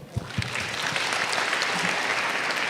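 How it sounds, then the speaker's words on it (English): Conference audience at ICSEAR 2025 bursts into applause, a couple of sharp claps at the start swelling into steady, dense clapping that carries on evenly to the end. "give the applause for the speaker and for you all"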